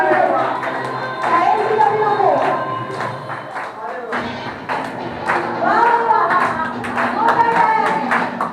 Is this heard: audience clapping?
yes